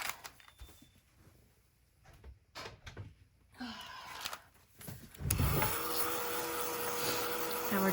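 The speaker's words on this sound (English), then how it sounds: "I'm gonna grab the heat tool." A handheld heat tool switches on about two-thirds of the way in and blows a steady, loud whirring stream of air to dry a craft piece, after some quiet handling and clicking sounds.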